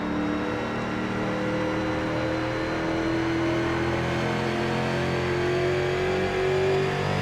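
A race car engine in the iRacing video game drones loudly and continuously, its pitch slowly climbing as it accelerates, with no talking.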